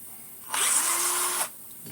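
A drill-like space maker tool slowly engaged while dismantling a device, a brief loud whirring burst lasting about a second that starts and stops abruptly against a quiet background.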